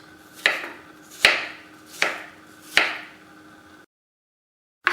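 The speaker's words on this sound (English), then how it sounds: "just turn it around and chop it" A knife chops through an apple on a cutting board in four distinct, evenly spaced thuds, each with a short crisp tail, followed by silence and the start of a fifth chop.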